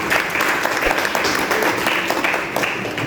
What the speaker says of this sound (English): Please, let's give a big hand to the sound technicians.